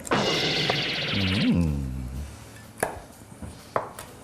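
Sharp knife chops through dried squid on a board, a few spaced cuts following a stretch of clatter and a brief voice-like sweep.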